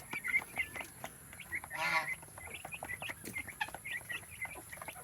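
Rhode Island Red chicks nearly two months old cluck and chirp in rapid, overlapping bursts throughout, close by, with one louder squawking call near the middle.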